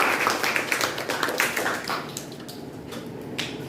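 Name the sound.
class applause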